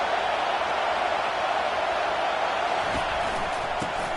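A stadium crowd roars loudly and without letup at a college football game in College Football 25, a dense wash of noise with no clear talk over it.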